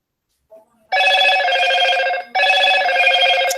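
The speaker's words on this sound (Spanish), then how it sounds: "Ay, mi teléfono es tan escandaloso." Mobile phone ringing loudly with an electronic ringtone in two sustained bursts and a short pause between them, close and dominant.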